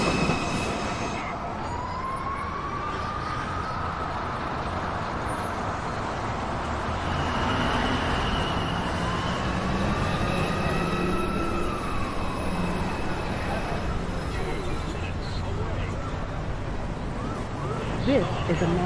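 At 207th Street, a Manhattan-bound NYC Subway 2 train rumbles close and steady, with sliding tonal whines from the motors or wheels rising and falling, and speech running under the rolling noise.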